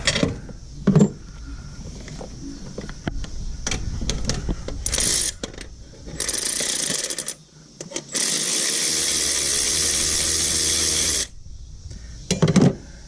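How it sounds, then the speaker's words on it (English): Wrench working a tight bolt loose on a 2008 Subaru Impreza during engine removal, close metallic ratcheting and clicking in irregular bursts, with a long steady whirring stretch and clanks, no talking. "you'll need a wrench for this side, so we'll take that bolt out"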